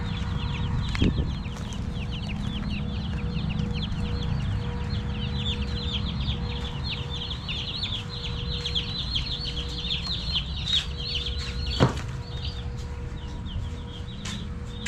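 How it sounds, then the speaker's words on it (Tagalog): Many 45-day-old chicks cluck and peep continuously in a flock of twenty, with a steady hum beneath and a couple of sharp knocks. "biniling manok sisiw 45 days 20 piraso yan"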